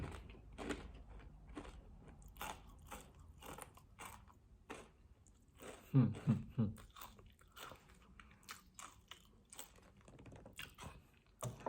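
Crispy fried spring rolls being bitten and chewed at close range, a steady series of sharp crunches with a louder burst of crunching midway, no talking.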